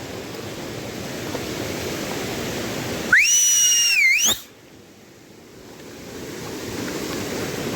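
Water rushes steadily through a village irrigation channel during the rainy season, a continuous broadband flow that fills the clip, briefly interrupted by a high whistling tone before the rushing resumes.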